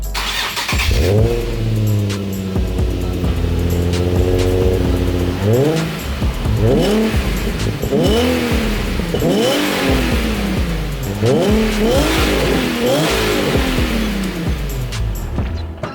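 A Nissan 350Z HR engine with test pipes starts and revs repeatedly, its exhaust rising and falling in several throaty bursts, close and loud.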